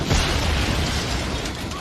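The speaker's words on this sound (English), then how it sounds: "His actor seemed pretty close to that explosion." A loud, sustained explosion from the film The Crow, a dense broadband roar that bursts at the start and rumbles on steadily without letting up.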